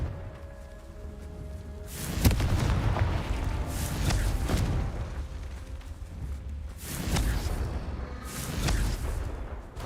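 A Confringo blasting spell in Hogwarts Legacy explodes with deep booming blasts, two heavy rumbling bursts a few seconds apart, each with a sharp crack at the start and a rolling low tail.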